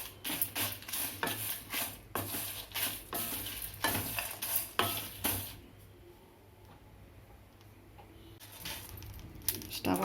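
Whole spices for homemade masala lightly roasting in a pan, heard as rhythmic stirring scrapes over a soft sizzle, close up, with a quieter stretch in the middle before the stirring resumes.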